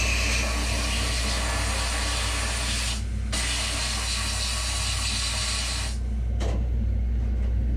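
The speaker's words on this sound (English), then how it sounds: "I'm gonna glass bead this piece here first" Steady, loud hissing blast of compressed air and glass beads spraying against a metal sewing machine lamp part, with a low rumble beneath and a couple of brief pauses.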